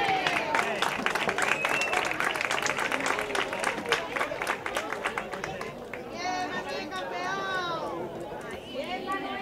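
Clapping from the audience at an end-of-year school graduation in Almonte, dense and steady at first, then giving way to children's voices and crowd chatter.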